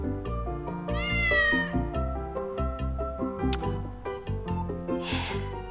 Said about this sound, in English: A cat? It just, like, came out of nowhere and snatched the phone right out of my hands.